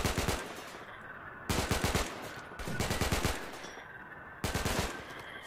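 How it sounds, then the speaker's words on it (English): Bursts of gunfire in the colony game Rimworld during a cold-weather skirmish, four short rapid volleys separated by brief pauses, crisp and moderately quiet. "Why aren't you shooting?"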